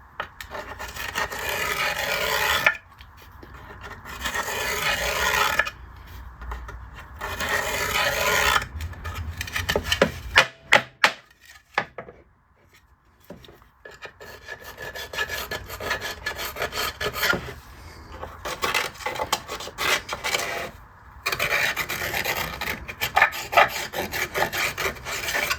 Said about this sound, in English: I'm going to have to scrape out something. I'm using a file, broke the tip off the file too.